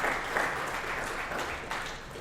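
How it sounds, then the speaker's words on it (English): An audience applauds right after a speech, a steady wash of many hands clapping that holds evenly for a couple of seconds, with a few slightly louder swells. "can you please give him a round of applause?"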